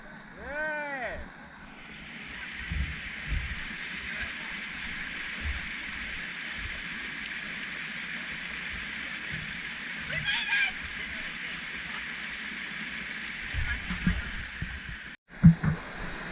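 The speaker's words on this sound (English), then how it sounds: "This is waterfall number 2" A waterfall on a forest hike, heard as a faint, steady hiss of falling water in the background, while people talk and move about nearby.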